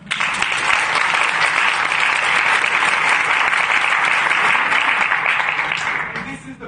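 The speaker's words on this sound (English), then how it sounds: "Give a hand clap." An audience at an education leadership event claps together in a broad, steady round of applause that holds evenly and tapers off at the end.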